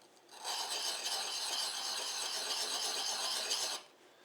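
A saber-grind knife blade rasps steadily against a sharpening stone in continuous circular strokes, a close, even grinding hiss lasting a few seconds before stopping.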